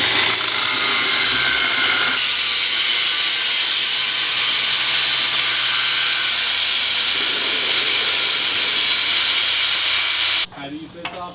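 An aerosol can of brake cleaner sprays in a loud, continuous hiss for about ten seconds before it stops. A voice follows briefly afterward.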